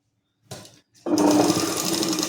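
A sewing machine stitches a fold of patiala salwar fabric. A couple of brief whirs give way to a steady, loud, close run of stitching with an even hum.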